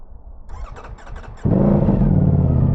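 A 2025 Ducati Panigale V4 motorcycle cranks for about a second, with a few rapid starter pulses, then fires up into a loud, steady close-up engine rumble.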